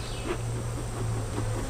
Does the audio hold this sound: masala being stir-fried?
no